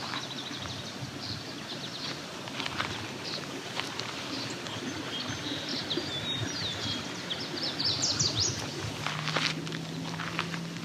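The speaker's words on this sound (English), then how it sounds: "another kingbird flying over" A kingbird calls as it passes over open farmland on the Ferndale Flats, a few sharp high chips clustered late, thin and somewhat distant above a steady bed of background noise and soft thumping.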